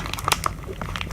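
Foil booster packs of Vampire: The Eternal Struggle trading cards are ripped open, giving a close, loud crinkling and tearing with sharp rustling bursts that last about a second.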